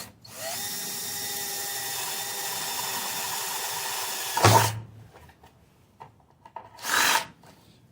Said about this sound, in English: So let's go ahead and line these guys up and drill them out